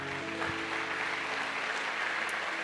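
A church congregation claps steadily through a sermon service, a dense even wash of applause with low background hum and no speech.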